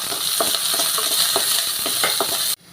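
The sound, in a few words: ginger and garlic frying and being stirred in a pan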